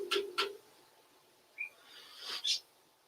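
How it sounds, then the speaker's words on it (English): A small bird sings outdoors in a few short, separate chirps and calls spread across the moment, faint and fairly close, with quiet background and no talk. "Sing it, little bird."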